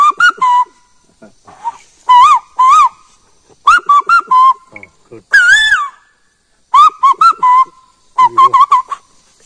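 A man imitates the call of a keteki (hawk-cuckoo) with his voice. Bursts of bright, warbling, whistled notes come in repeated clusters, loud and close, with short gaps and brief vocal sounds between them.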